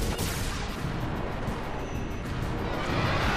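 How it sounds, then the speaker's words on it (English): Anima's huge explosion of darkness in a Final Fantasy X battle, a sustained roaring, rumbling blast with crackling texture that fills the whole stretch at steady strength. "And cue the big explosion of darkness."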